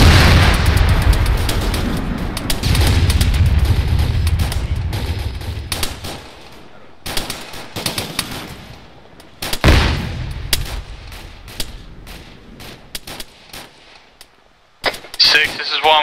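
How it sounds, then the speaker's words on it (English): Combat in the video game ARMA 3: loud autocannon rounds and rifle gunfire burst in heavy volleys, then thin out into scattered shots and booms, with faint voices in the mix. "we have an auto cannon over here shooting at us now"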